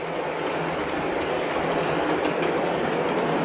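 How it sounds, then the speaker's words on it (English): Steady rumbling model train sound system noise with a rhythmic clickety-clack of wheels over rail joints, continuous and fairly loud throughout. "The sound system goes into that clickety-click mode."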